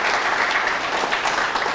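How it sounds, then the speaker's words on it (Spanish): A studio audience at a televised comedy show in Equatorial Guinea breaks into sustained, even applause, dense clapping that stays loud and steady throughout without speech over it. "Por favor, señores, un aplauso."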